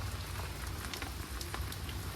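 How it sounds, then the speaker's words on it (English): Rain falls steadily and heavily, a faint even patter with scattered sharper drop hits, distant and unbroken, with no one speaking. "it's raining a lot."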